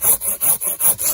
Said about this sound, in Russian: берете пилу и просто вот где-нибудь на такой высоте берете и тупо спиливаете